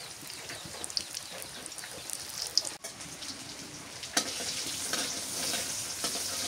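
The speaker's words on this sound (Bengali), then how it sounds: "ছোট মাছগুলো ভাজি করলাম তরকারি। পেঁয়াজ কুচি দিয়ে দিই।" Small river fish fry with chopped onion in a pan, a steady crackling sizzle with occasional sharp pops and a brief stirring clatter, close and continuous throughout.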